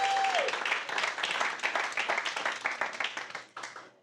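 Sustained audience applause at a comedy show, dense clapping from a crowd that holds steady for several seconds and then begins to thin out toward the end.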